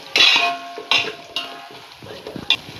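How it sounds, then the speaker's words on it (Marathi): Potatoes fry with onions in a pan over high heat for restaurant-style chicken biryani, with a few sharp scraping and clanking stirring strokes over a faint background sizzle. "कांद्यांमध्येच बटाटे मस्त लाल करून घेऊया फास्ट गॅसवर"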